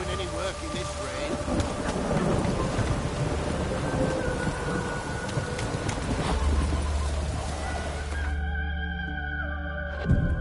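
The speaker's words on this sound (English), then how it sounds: "No use doing any work in this rain." Steady rain in The Witcher 3 video game pours down with a dense hiss and low rumbling, lasting several seconds before cutting off abruptly near the end.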